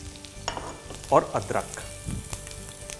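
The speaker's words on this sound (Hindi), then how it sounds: "ये मस्त वाला तड़का बन रहा है इसका" Garlic and ginger sizzle in hot oil after mustard seeds, cumin and green chilli for a tadka in Indian dal cooking, a steady close frying crackle with a few louder bursts as the ginger goes in, with a brief spoken remark.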